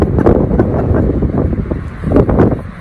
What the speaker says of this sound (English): We got wind